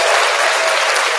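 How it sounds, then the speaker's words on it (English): Brief, dense applause from a live radio show audience, a bright, even clatter of many hands clapping at once with no pauses. "Round of applause for that"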